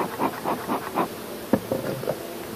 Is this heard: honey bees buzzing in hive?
yes